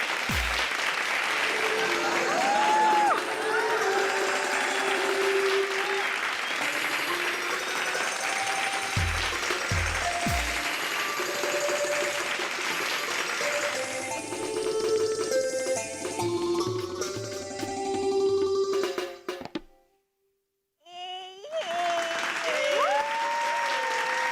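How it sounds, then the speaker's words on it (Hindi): Sustained applause from a comedy show audience for a Chinese performer, broad and loud with music and voices mixed in, briefly cutting out near the end before resuming. "एक बार जोरदार तालियां हो जाए फॉर सलोनी सरीफ"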